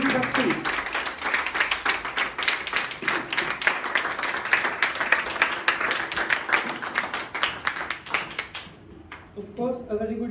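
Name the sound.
audience applauding and clapping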